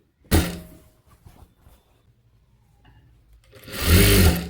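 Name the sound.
sewing machine stitching a puff sleeve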